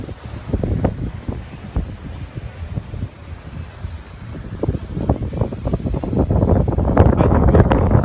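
Strong wind buffets the microphone on Miura beach, with high waves surging and crashing nearby, a continuous rough roar that grows louder toward the end.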